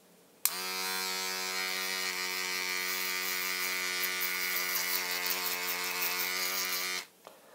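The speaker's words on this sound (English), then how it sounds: "Let me shave a bit of the baldness off." A close electric shaver buzzes steadily for about six and a half seconds while shaving a bald wig, starting and stopping abruptly with no talking over it.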